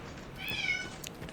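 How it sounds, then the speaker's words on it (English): Pet cat Jonesy gives a single short, clear meow close by in a quiet room, with no talking. "That's my cat."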